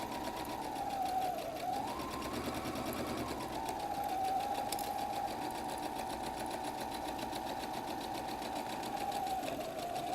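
A sewing machine running a straight stitch on a messenger bag pocket, a steady close whirring hum with a brief change in pitch as the stitching slows and resumes.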